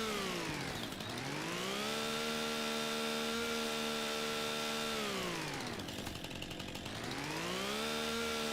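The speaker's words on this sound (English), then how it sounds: "As one does with a chainsaw, just go around and, you know, just get rid of a stump in the ground." Chainsaw from Farming Simulator 25 cutting tree stumps, a loud continuous engine drone that rises and falls as the saw revs up and bogs down through the wood, with no talk over it.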